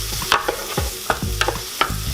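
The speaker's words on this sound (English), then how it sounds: "Just going to give it a little bit of a stir." Ingredients sautéing in a Morphy Richards Total Control soup maker are stirred, giving a soft continuous sizzle broken by a handful of distinct scraping and tapping strokes of a utensil, close up and with no speech.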